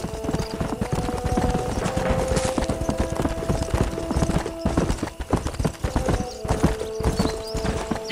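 A horse gallops in Red Dead Redemption, hooves pounding in a brisk, clear rhythm up close and loud, with music tones and wagon or ambient noise underneath and a brief dip in the middle.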